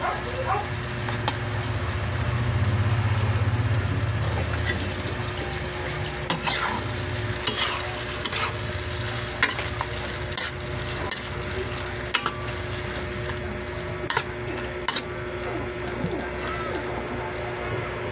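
Hotdogs fry in a pan at home with a steady soft sizzle and occasional stirring clinks, with a low rumble near the start and people chatting over it.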